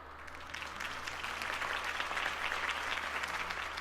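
A crowd applauds steadily in the video game Batman: The Telltale Series, a dense patter of clapping that swells slightly and sounds somewhat distant.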